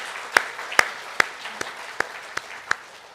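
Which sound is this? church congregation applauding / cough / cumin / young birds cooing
church congregation applauding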